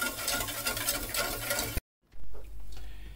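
Gelatin cream being mixed into cream cheese and yogurt for a no-bake blueberry cheesecake: soft, continuous stirring and patter of a spoon in a bowl, close up, broken by a brief silent gap before the quieter stirring resumes.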